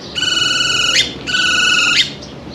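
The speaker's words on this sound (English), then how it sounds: "And birds." Birds call along a lakeside promenade, the Malecon in Chapala, Mexico: two loud, sustained whistling calls about a second each, one after the other, clear over a steady outdoor background.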